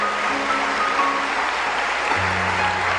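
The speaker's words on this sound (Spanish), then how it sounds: "Dele un aplauso al Señor con todo su corazón" A church congregation applauds in a steady, dense wash of clapping that fills the room at an even level, with brief tones sounding beneath it.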